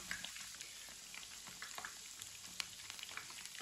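A sandwich cooking in a pan over a low flame gives a soft, steady sizzle and faint crackling pops, quiet and close, with no talking.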